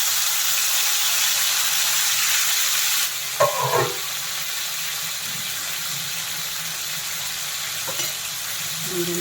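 Tomatoes and tamarind fry in oil in a kadai for a tomato-mint chutney, a steady broadband sizzle with a few brief stirring clatters; the hiss drops slightly after three seconds but keeps going, with no talking.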